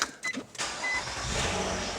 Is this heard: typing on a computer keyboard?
no